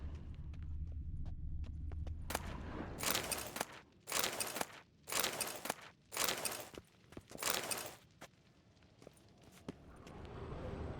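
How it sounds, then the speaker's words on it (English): Horses' hooves clip-clop at a steady walking pace in a video game setting, the loud rhythmic strikes coming in clustered bursts, close and with no voices. "I'll saddle the horses."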